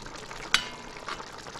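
Catfish curry simmering in a pan, a faint, soft sizzle and bubble with a quick scraping stir midway and a smaller clink later, with no talk over it.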